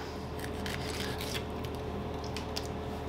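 A knife cuts through the base of a pineapple with close, crisp scraping and rasping strokes in several short bursts over a low background hum.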